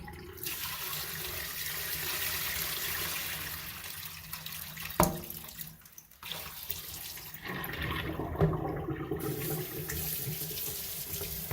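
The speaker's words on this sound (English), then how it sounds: "Pour the water from the bowl." Wash water is poured from a bowl into a sink during hand-washing of clothes, a steady close rushing splash with a couple of sharp splashes and a brief lull midway.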